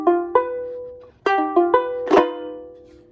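Banjo ukulele with a sock stuffed inside to mute it, strumming a few short, damped chords and single plucks in quick succession, close and fairly loud, then ringing out briefly.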